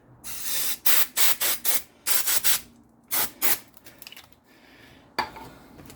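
Short bursts of spray cleaner hiss onto a brake rotor during pad replacement on a 2013 Kia Soul, about ten quick puffs in rapid groups, close and fairly loud, then a faint clink at the end.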